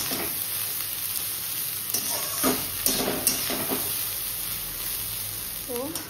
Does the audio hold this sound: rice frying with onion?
yes